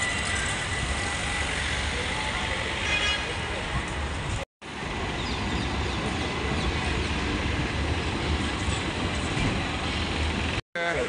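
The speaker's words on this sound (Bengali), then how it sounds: "ট্রাম ট্রেন রয়েছে, এই ট্রাম ট্রেনগুলো দেখতে অনেক সুন্দর লাগে, পার্পেল কালার এবং আবার স্টেশনে যাচ্ছে।" A purple tram passes along a street in Istanbul's Tophane area, a steady, loud broadband rumble of wheels and traffic that holds for about eleven seconds, broken only by two very brief dropouts.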